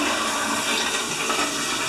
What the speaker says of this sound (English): he's flushing the toilet